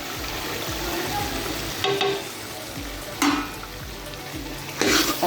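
Green chillies, tomatoes and chopped ginger hit hot beef masala with a loud steady sizzle, close and continuous, with a few clattering bursts from stirring or dropping pieces, no talk.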